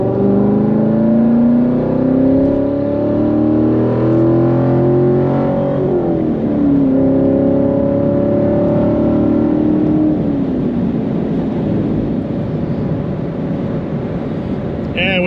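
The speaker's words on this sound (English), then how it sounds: "I really like the sound of this exhaust." A C7 Corvette with an Akrapovic exhaust revs and accelerates through the gears, its exhaust note rising and falling steadily, loud and close throughout.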